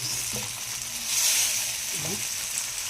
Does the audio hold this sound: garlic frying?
yes